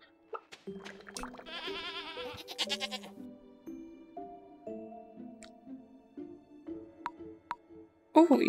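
Bleating goats from the farming game Stardew Valley: a quick, strained, quavering cry rises briefly over cheerful, plucked background music, followed by soft tapping game sounds and a sharp click at the end.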